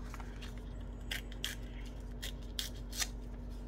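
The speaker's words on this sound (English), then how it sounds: "And once again I'm going to tear it off" Paper tearing for a shabby-style journal envelope pocket: a handful of short, crisp rips and scrapes spread over a few seconds, close and quiet over a faint steady hum.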